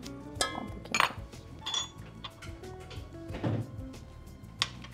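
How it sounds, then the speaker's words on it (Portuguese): Egg whites, sugar and lemon juice go into a pan for Swiss meringue: scattered metallic clinks, knocks and scrapes of utensils against the pan, close and fairly quiet, with brief pauses between them. "Vamos colocar tudo na panela de uma vez só."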